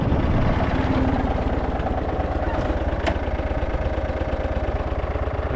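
A tractor engine idles loud and close in a steady, throbbing low rumble while its hydraulics raise a moldboard plow, with no talk heard.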